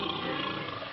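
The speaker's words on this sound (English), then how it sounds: "He talked to the lion" A lion roars in a vintage 1960 Noah's Ark cartoon, a single loud, sustained roar that fills the whole moment with no talk.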